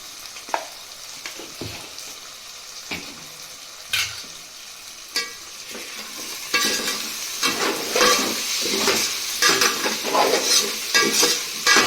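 Potatoes with turmeric stirred in a frying pan for khichdi: scattered spoon knocks at first, then a steady loud sizzle with continuous scraping strokes, close up.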